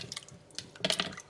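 Hands dipped into a bowl of cold water while sugaring for hair removal, a few soft splashes and trickles with a brief burst of sloshing near the end.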